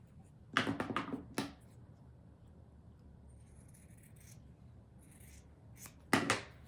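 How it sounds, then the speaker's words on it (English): Scissors trimming the large corners off a seam in knit fabric: two short bursts of crisp snipping, one near the start and another near the end, with quiet room tone between. "I'm going to trim these large corners off the side."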